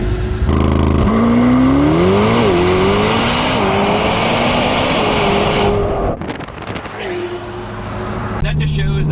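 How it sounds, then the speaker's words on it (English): Aston Martin Valhalla accelerating hard, its engine note climbing through rising harmonics, loud and close for about six seconds before a brief shift lull and renewed pull, with wind rush throughout and a voice exclaiming over it. "this car is so fast"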